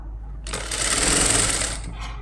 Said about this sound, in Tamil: நீங்கள் ஒரே சீராக இந்த மாதிரி மட்டுமே வச்சு தச்சுட்டு வாங்க